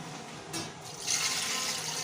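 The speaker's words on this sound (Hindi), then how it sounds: "3 गिलास पानी हमने इसमें ऐड कर दिया है" Water pours from a glass into a cooking pot holding about a kilogram of raw mutton, a steady close rushing splash that swells after a brief lull and runs on without talk.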